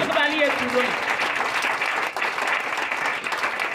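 Church congregation applauding loudly and steadily, a dense wash of clapping with voices mixed in throughout.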